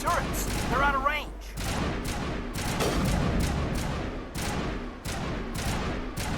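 Gunfire crackles in the Mass Effect video game, a string of sharp separate shots spread across the clip, with a voice speaking over the start.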